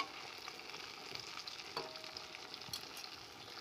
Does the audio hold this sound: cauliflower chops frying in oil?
yes